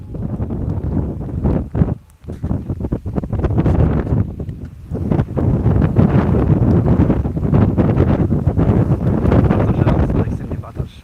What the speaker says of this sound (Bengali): অনেক বাতাস এরপর বাতাসের সাউন্ডগুলো দেখেন কি সুন্দর শব্দ বাতাসের